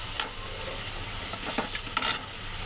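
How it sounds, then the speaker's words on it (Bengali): Koi fish fries in spices in a pan with a little water added, giving a soft, steady sizzle broken by a few light stirring scrapes close by, with no talking. "সুন্দর করে মাছটা কষিয়ে নিয়ে উঠিয়ে রাখবো।"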